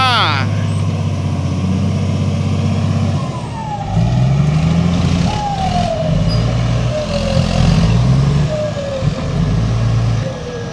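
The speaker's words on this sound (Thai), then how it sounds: "รถไถเตรียมตัวดัน" A tractor pushing a stuck, tilted dump truck, with heavy diesel engines droning and revving and air brakes hissing, loud and close. People talk over the engines.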